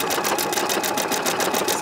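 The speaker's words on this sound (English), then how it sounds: "you just sew this one all the way down" A PFAFF Creative Icon sewing machine stitching steadily, a loud, close, rapid rhythmic whir and needle clatter running without pause.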